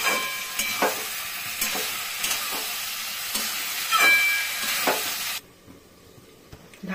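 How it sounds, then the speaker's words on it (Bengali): Green jackfruit frying with spice paste in a pan over high-to-medium flame, a dense close sizzle with repeated scraping stirs that stops abruptly near the end, leaving near quiet; no one speaks. "হাই টু মিডিয়াম ফ্লেম দিয়ে আমি কষাবো মশলাটাকে ভালো করে।"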